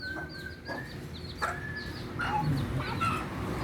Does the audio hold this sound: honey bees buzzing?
no